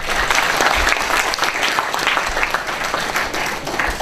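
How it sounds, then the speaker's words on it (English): Students at an Amrita University gathering give a sustained round of applause, dense and steady clapping filling the room for about four seconds. "Give yourself a proper round of applause."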